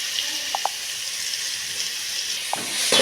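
Onions, tomatoes and green chillies sizzle steadily in a pan, a soft continuous hiss broken by a few faint clicks of a spoon or utensil.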